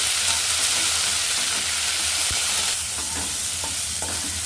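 Coriander seeds, fenugreek, cumin, green chillies and curry leaves sizzle steadily in hot oil in a pan, a loud continuous frying hiss with a few faint stirring scrapes.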